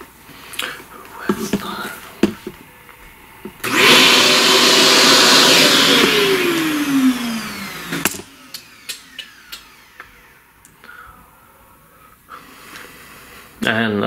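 A small vacuum cleaner runs for about four seconds during a pastel drawing session, starting abruptly, whirring steadily and loud up close, then winding down in pitch before cutting off, with scraping handling noises around it.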